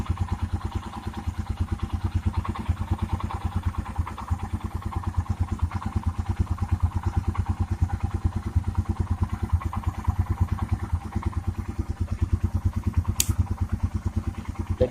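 A fuel-injected Royal Enfield Himalayan BS4 motorcycle engine idles steadily after starting, a close, even, rapid thumping pulse with light mechanical clatter and no talk over it.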